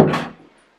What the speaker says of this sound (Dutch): Deur dicht.